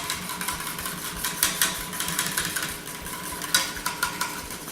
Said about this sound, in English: Whisk it lovingly until you feel that all the sugar crystals have dissolved into the milk